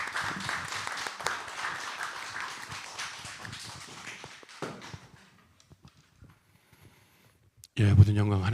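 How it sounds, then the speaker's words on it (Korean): A church congregation at a Friday evening worship service applauds in welcome, a broad wash of clapping that fades away, then a voice speaks close to the microphone. "환영의 박수로 맞이하겠습니다"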